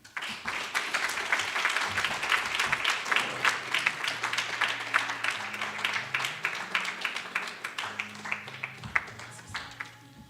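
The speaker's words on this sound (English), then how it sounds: "May I request that we give Prof another round of applause, please." An audience claps at a university public health division launch, a warm sustained round of applause with dense overlapping claps that slowly thin out, while a low hum and faint voices sit underneath.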